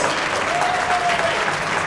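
Audience at a construction industry chapter event clapping in a dense, loud, even round of applause, with a faint tone running through the middle.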